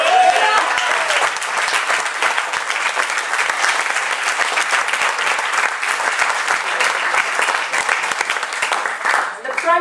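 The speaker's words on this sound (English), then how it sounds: "please give a very warm round of applause to both teams and their coaches" A debate audience applauds both teams and their coaches at a semi-final, sustained even clapping from a large crowd that holds steady throughout, with a voice briefly audible near the end.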